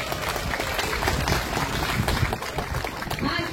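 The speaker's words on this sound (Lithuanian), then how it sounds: "Plojimai!" Applause at a Lithuanian disability society celebration in Talačkoniai, a crowd clapping steadily and densely for several seconds, moderately loud and sustained with no voice over it.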